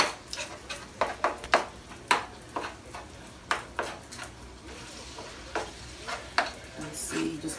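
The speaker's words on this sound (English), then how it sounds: "I'm going to stir these in here. I'm going to break down the meat every time I stir." Ground meat browning in a pan while being stirred and broken into chunks with a utensil: irregular sharp scrapes and clacks against the pan over a faint background sizzle, close by.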